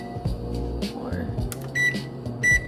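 Control-panel beeps and button presses on a kitchen oven being set to bake at 350 degrees Fahrenheit, two short bright tones standing out over a steady hum, with a person talking quietly nearby.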